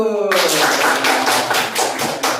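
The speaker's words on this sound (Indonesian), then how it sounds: "tepuk tangan untuk kelompok 1" A classroom of students claps for group 1, a short burst of dense hand claps following a brief voice, fairly close and loud with uneven pulses.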